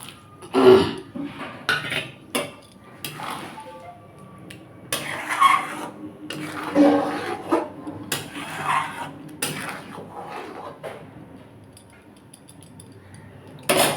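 Paneer cubes go into a pan of spinach in a home kitchen, with clattering knocks of a spoon against the pan and scattered metallic clinks, irregular and close, with quiet pauses between.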